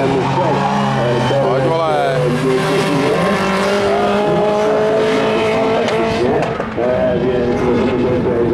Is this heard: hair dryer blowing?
no